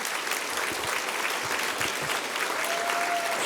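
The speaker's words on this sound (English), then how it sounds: "Let's give Michelle a round of applause." Sustained, even applause from a large crowd at a hall of fame gala, a broad wash of clapping heard at a moderate distance, with a faint tone briefly rising near the end.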